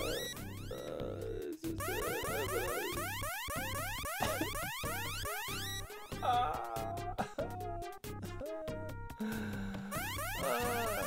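Ecco the Dolphin on the Sega Mega Drive plays a busy stream of warbling, rising electronic chirps and honk-like sonar calls over looping game music, repeated again and again without pause.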